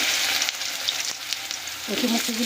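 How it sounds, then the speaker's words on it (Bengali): Pieces of taro (kochu) fry in mustard oil in a wok with panch phoron and dried red chillies, giving a steady close sizzle with light scraping toward the end. "দিয়ে খুব ভালো করে আমরা একটু ভাজা করে নেব"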